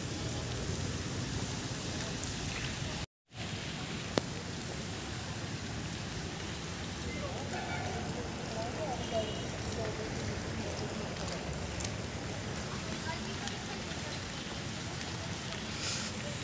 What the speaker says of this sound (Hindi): बारिश थोड़ा से हो रही है, बारिश चालू है।